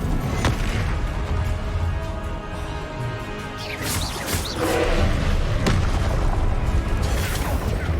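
A Confringo fire spell from the Hogwarts Legacy video game explodes as a loud, booming blast. Dense rumbling game combat noise runs underneath and swells again partway through, with no voices.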